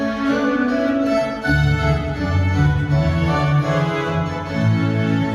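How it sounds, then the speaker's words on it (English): Layered instrumental music from a Yamaha PSR-SX900 keyboard, bright plucked harpsichord notes over sustained bowed strings, steady and full throughout, no talking. "If I add the harpsichord and the string, this is what I'm going to get."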